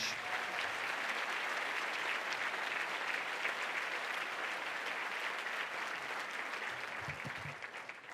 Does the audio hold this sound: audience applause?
yes